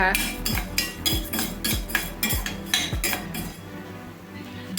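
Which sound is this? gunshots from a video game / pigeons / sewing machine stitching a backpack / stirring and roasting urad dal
stirring and roasting urad dal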